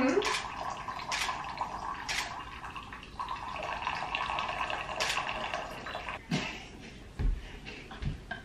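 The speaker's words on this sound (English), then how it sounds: "Oh, I'm trying to pour my tea, guys." Hot tea is poured from a pot into a cup at home, giving a steady trickling splash with a few louder drips and knocks near the end.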